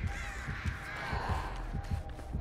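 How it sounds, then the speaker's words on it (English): Crows cawing in the horror video game Dead by Daylight, several harsh caws layered over a dense, rumbling ambient background, moderately faint and continuous. "And I got rid of the birds."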